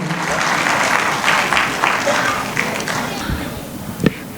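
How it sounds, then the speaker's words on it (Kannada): A crowd at an awards ceremony gives a minister loud, sustained applause, dense clapping that fills the space and then tapers toward the end, with a few louder claps standing out. "ದಯವಿಟ್ಟು ಜೋರಾದ ಚಪ್ಪಾಳೆಯೊಂದಿಗೆ ಬರಮಾಡಿಕೊಳ್ಬೇಕು."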